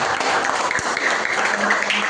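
A classroom group applauding together after a teacher's prompt, producing a brief steady burst of clapping at close range.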